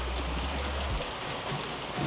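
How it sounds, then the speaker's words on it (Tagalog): Heavy rain pours steadily on a Manila street at 5 AM, a dense, loud hiss of drops hitting surfaces with a low rumble underneath. "Lakas ng ulan."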